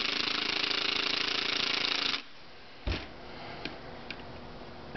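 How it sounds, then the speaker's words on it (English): Snap-on impact wrench tightening a nut on a drum badge grommet, a loud steady buzzing rattle for about two seconds that stops, followed by a few faint ticks and taps. "Then we just get the impact, we tighten it a little bit and check it"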